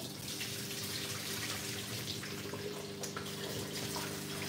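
Tap water runs steadily into a sink while potatoes are washed, a continuous close splashing stream with no speech.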